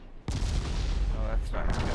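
A sudden heavy boom of naval gunfire in Ultimate Admiral Dreadnoughts, followed by a rumbling roar of further shots and explosions that stays loud and dense to the end.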